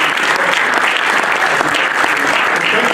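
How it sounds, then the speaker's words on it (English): Steady, dense applause from an audience at a citizens' dialogue event, loud and close, clapping continuously throughout with no break. "please join me in a round of applause for my 2 speakers"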